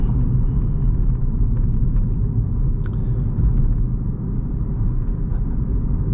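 A Peugeot e208 electric car slows as it enters a village, giving a steady low road and tyre rumble with continuous cabin noise throughout and no talking.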